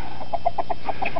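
A chicken clucks in a quick series of short, clear notes, several in a row with a steady rhythm, close by over faint background hum.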